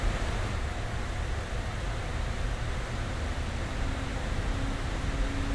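Airliner cockpit engine noise in Microsoft Flight Simulator, a loud steady broadband roar with low rumble, unbroken and constant throughout.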